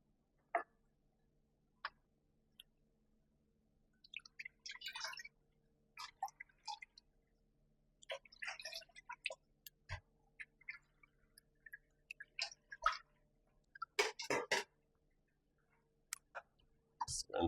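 Ginger beer liquid drips through two stacked strainers into a container below, a quiet, irregular patter of small drips and splashes that grows busier partway through, with no talking.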